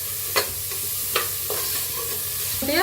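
Spoon scraping and stirring sprouted moth beans in a hot pan with a steady sizzle of oil, a few sharp clinks standing out over the frying hiss.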